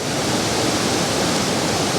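A waterfall in the old-growth Carmanah Walbran forest gives a steady, dense rushing roar, loud and close and unbroken for the whole stretch, with no voices.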